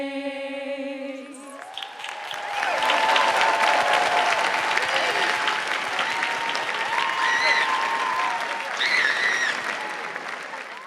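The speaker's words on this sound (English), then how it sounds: "Another round of applause for our wonderful singers." At a December university commencement, a sung note fades and the audience breaks into warm, sustained applause for the singers, dense steady clapping that swells and holds for several seconds, with a few faint cheers rising through it.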